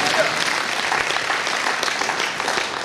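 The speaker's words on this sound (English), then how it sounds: "I thought someone is clapping for Jesus." Congregation clapping at a church banquet service, a full, steady wash of many hands, loud and close, with some voices in the crowd.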